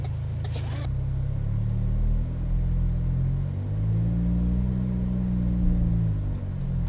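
Inside the cabin of a modified MG5 while driving, the exhaust gives a low, soft, steady drone that rises and falls gently with the throttle, near and continuous without harshness.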